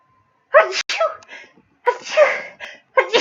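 Two sharp sneezes, with a third starting at the end, from a person doing a crochet demonstration during allergy season, loud and close with short breathy gaps between them.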